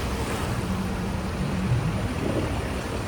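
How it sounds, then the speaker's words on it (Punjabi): Floodwater rushes steadily through flooded streets in Mansa, a continuous broadband wash and churn heard close and fairly loud, with no voices over it. "ਤੇ ਆਹ ਦੇਖ ਲਓ ਬਾਈ ਪਾਣੀ ਦੇਖੋ"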